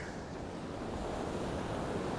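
Blustery wind and rolling sea surf on Withernsea North beach on the East Coast blend into a continuous dense roar, with wind buffeting the microphone and no voices.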